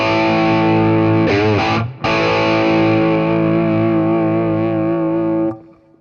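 An overdriven electric guitar through a Cornell Vintage Brown tube amplifier rings out loud and thick with distortion, a wobbling bend early on, then a long sustained chord that cuts off abruptly.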